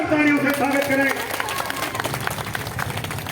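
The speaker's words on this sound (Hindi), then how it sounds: "रजीता राज जी के लिए एक बार जोरदार तालियों से स्वागत करें।" A political rally crowd welcomes Rajita Raj with applause: a voice speaks briefly at the start, then sharp, rapid clapping from many people continues, close and fairly loud.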